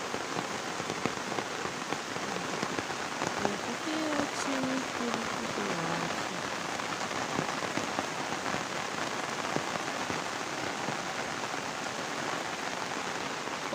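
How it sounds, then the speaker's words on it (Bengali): Steady heavy rain pouring down on a rooftop and garden, a thick continuous rushing patter heard up close, with a faint murmur of voices briefly in the background. "কতদিন পর এরকম আমরা বৃষ্টি দেখতে পাচ্ছি, সত্যি।"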